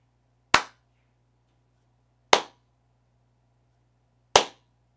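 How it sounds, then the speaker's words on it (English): Three sharp, isolated hand claps ring out in a quiet studio fitted with 23 acoustic panels, evenly spaced about two seconds apart, each with a short, quickly damped decay. "Let's go ahead and give a clap test."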